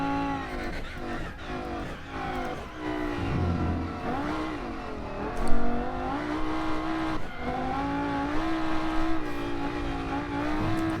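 Race car drifting in the Rennsport racing video game, a steady engine drone with rising and falling revs held through a long slide, loud and continuous with a brief louder burst midway.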